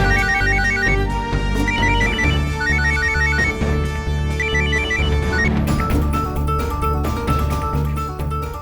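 A telephone ringtone plays loudly and continuously in a melodic repeating pattern for several seconds, with the tune shifting partway through and no voices over it.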